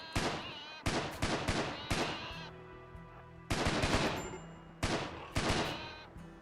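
Colonists open fire in the video game RimWorld: several loud, rapid bursts of gunfire come in clustered volleys, separated by short pauses.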